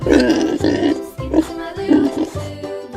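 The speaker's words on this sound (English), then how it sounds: "Pig." Repeated pig grunts come in short, close, loud bursts, with a steady low backing underneath, heard during a run of farm animal sounds.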